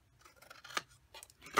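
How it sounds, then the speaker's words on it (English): Large scissors snipping through paper card stock for a craft box, a few distinct quiet cuts spaced over a second and a half, the last one crisp and loudest, with no talking. "I'm going to bring in my larger scissors for that just because it's a little easier."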